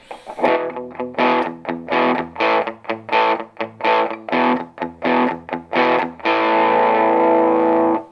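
Distorted electric guitar, a Telecaster bridge pickup through a Behringer TO800 tube modeler, plays a run of choppy, punchy chords with short gaps, then a final chord left ringing and sustaining.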